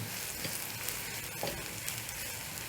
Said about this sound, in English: I'm going to cook my onions until soft